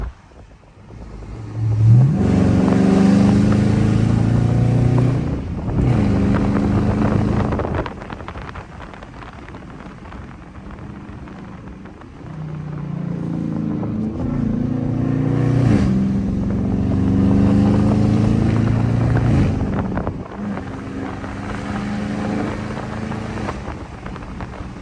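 Dodge Charger RT engine driving through city streets at night, loud and close, with repeated surges of revving acceleration that rise and fall between quieter cruising stretches, plus some wind noise.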